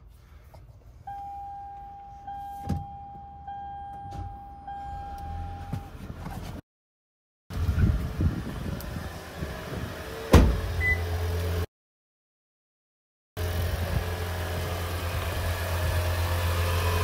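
A Lexus/Toyota car engine starting up and settling into a steady idle after an oil filter change, heard close up, with a couple of brief dropouts and a sharp clunk partway through.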